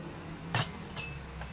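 Two bright glass clinks a moment apart, with a fainter third tap, over a low background hum; no talking.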